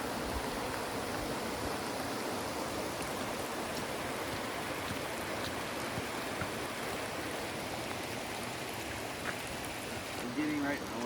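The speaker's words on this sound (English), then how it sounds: "It's right on the creek," A creek flows steadily past a riverside campsite at Trask River, Oregon, in wet weather. Broad, even rushing water runs nearby and continuously, with a brief louder spot near the end.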